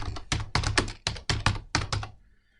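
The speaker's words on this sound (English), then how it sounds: "quickly typing there," Quick bursts of keystrokes clatter on a computer keyboard, about a dozen taps in small clusters, close by, trailing off into quiet at the end.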